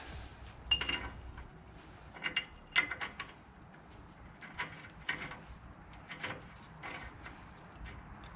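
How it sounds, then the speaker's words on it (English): A ratchet threads an axle nut back onto a Chevrolet 2500 HD during axle seal and bearing work. It gives soft, irregular clicking and metallic rubbing in bursts against a quiet shop background. "now we can put our nut back on."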